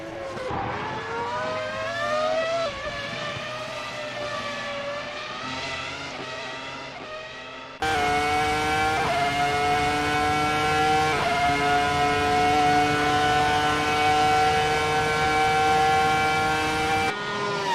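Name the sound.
race car engine in a racing video game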